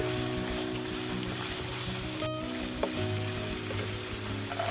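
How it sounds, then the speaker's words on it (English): Spring onion whites and chopped carrot sizzle steadily in a hot pan for chicken fried rice, a close, continuous frying hiss with a brief clatter of stirring partway through. "Saute for 30 to 40 seconds"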